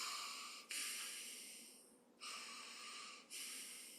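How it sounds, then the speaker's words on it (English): Gentle breathing in during a guided meditation: two long, soft airy inhalations in a quiet room with no talking. "placing your attention on your breath, gently breathing in"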